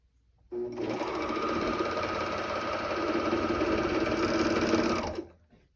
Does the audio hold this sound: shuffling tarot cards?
no